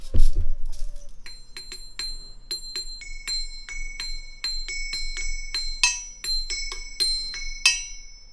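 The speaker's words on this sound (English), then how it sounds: "So I filled the gap with another small high bell." A small, high-pitched bell on a Stumpf fiddle rings again and again in bright, clear strikes, some quick and clustered, each leaving a short shimmering ring.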